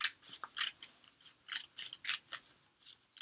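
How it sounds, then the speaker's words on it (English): Scissors snipping through a foam helmet template, a steady series of about a dozen crisp, close cuts in even rhythm with short gaps, no talk. "this part of the template, I'm just going to cut clean off"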